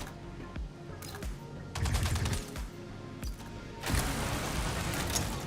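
Automatic gunfire bursts in the Star Citizen 4.1.1 PTU contested zone, several loud rapid volleys separated by short gaps, with the heaviest sustained stretch at the end.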